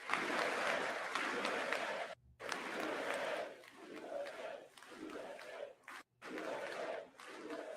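Audience applause in the chamber during a State of the Union speech, coming in several bursts of clapping and cheering broken by short pauses, moderately distant.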